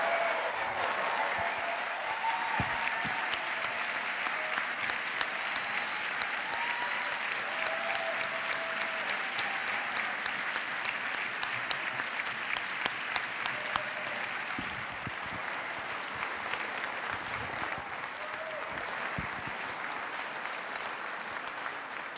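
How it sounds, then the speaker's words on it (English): Sustained audience applause for members of the Toronto Symphony Orchestra at a film festival event, a dense steady clatter of many hands clapping at moderate distance, continuing for over twenty seconds with little variation. "the conductor, Michael Reisman, and a full round of applause for members of the Toronto Symphony Orchestra"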